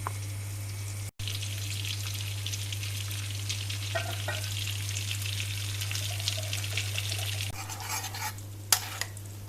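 Butter heating with red pepper flakes for topping lentil soup sizzles steadily and close, a dense continuous frying hiss with a few soft stirring scrapes and clinks, no voices.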